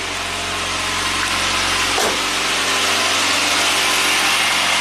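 A 1993 Saab 9000 CSE Turbo engine runs at a steady high idle, a loud continuous drone with a brief shift in pitch partway through, with no talking over it.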